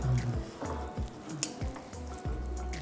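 Chicken biryani masala being stirred with a ladle in a pot, giving repeated soft scraping strokes with a low sizzle beneath, steady and close with no talking.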